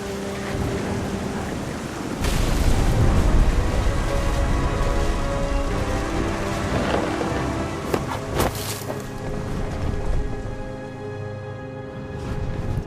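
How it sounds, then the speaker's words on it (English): Thunderstorm with heavy rain in the video game What Remains of Edith Finch, a dense steady downpour with rumbling swells and a few louder cracks, continuous and enveloping. "The thunder sounded much too close and full of angry power."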